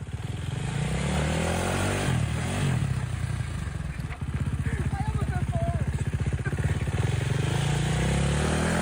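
A motorcycle engine is revved hard, the throttle climbing into a loud, rapidly pulsing roar that holds steady near the listener, with a voice heard over it at times.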